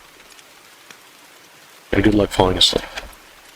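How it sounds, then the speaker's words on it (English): Steady soft rain falls outside a garage, a constant diffuse patter in the background, with someone talking over it for the second half. "Got a nice, beautiful rain in the background"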